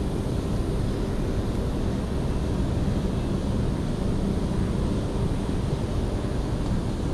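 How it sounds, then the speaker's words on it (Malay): Steady, loud wind blasting across the microphone outdoors while fishing for gorgon, a broadband roar that holds throughout with no talk. "Aduh, angin tiup."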